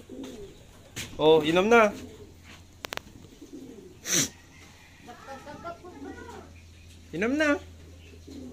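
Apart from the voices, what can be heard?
pigeons cooing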